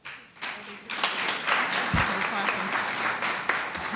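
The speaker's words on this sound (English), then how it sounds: "Please, no clapping, please." A dense round of clapping from a crowd, steady and fairly loud, with a murmur of voices underneath.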